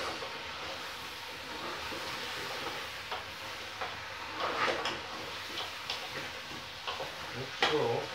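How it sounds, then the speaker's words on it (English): Veal and onions stirred in a pan, with soft scraping and faint sizzling under a steady low background, plus a few brighter clinks of the utensil against the pan. "Give it a good stirring."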